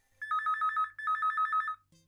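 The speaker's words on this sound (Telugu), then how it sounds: "మంచి సీన్లు వచ్చినప్పుడు టీవీ చూడడం కూడా ఫోన్లు వస్తాయే" Phone ringtone in a comedic domestic scene: two bursts of a rapid warbling electronic trill, each about three-quarters of a second, loud and close with a short gap between, then silence.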